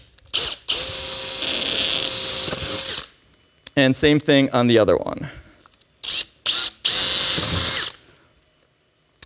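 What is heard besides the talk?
power drill drilling through polycarbonate back support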